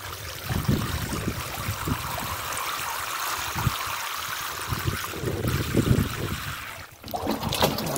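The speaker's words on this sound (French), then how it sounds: "donc là je vais remplir d'eau" Water is poured into a freshly dug hole around a snowball shrub (viburnum) in a garden, a steady splashing trickle that runs for several seconds with a brief dip near the end.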